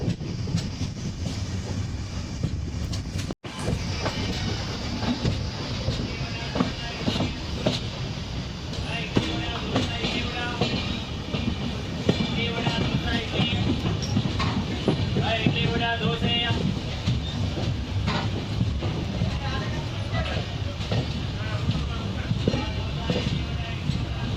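A passenger train pulls away from a station on a journey from Pune toward Tirupati, heard from on board as a continuous close rumble with rhythmic clickety-clack of wheels on the tracks and faint voices at times.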